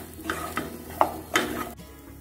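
Water chestnut pieces frying with amchur, garam masala and green coriander, stirred in a pan: a few close, irregular scraping and clacking strokes over a faint sizzle.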